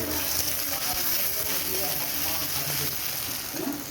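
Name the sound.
tomatoes frying with ginger and garlic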